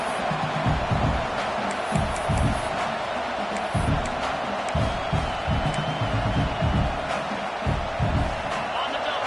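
Stadium crowd in College Football 26 roars steadily through a late-game defensive down, a dense wash of cheering with sharp thumps and bursts rising and falling across the whole stretch.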